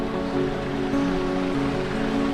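Cold mountain stream water rushes steadily over rocks on the Annapurna trail between Bamboo and Deurali, a constant broad hiss and gurgle at moderate volume with no voices.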